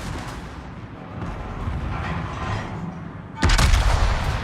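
Naval guns fire shells at an enemy ship in a warship video game, a rumbling barrage with a sharp, loud boom near the end.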